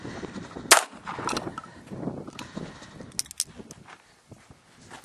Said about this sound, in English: put two more rounds of 380 through it before we change barrels